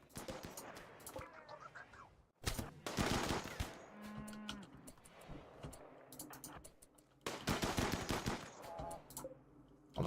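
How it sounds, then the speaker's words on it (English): Gunfire in the RimWorld colony game, sniper rifle shots among loud bursts of weapon fire, with several sharp broadband blasts and busy game sound effects through the stretch, no talk. "Oh, that's a sniper."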